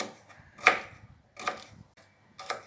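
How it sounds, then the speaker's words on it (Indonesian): Onions being chopped with a knife for a chicken satay with cashew peanut sauce: three distinct, fairly close knife strikes against a board, spaced unevenly with quiet gaps between, no talking. "bawang-bawang saya mau potong dulu ya"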